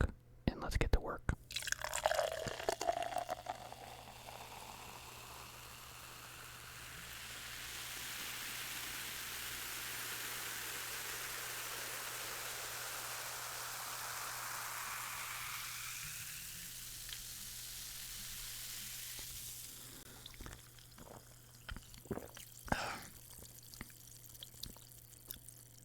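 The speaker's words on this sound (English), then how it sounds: "Let's pour out a nice cold bottle of Diet Coke" A cold bottle of Diet Coke is poured out, giving a steady fizzing, gushing pour that runs for about fifteen seconds, close and moderately loud, framed by brief clatter and handling noises at the start and end.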